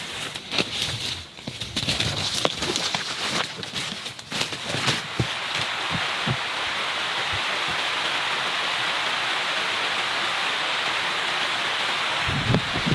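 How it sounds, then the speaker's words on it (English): Steady rain pours down over the Amazon jungle, a dense, even hiss that starts with scattered drops and heavier spatters before settling into a continuous downpour, with no talking. "It's a healthy rain coming down."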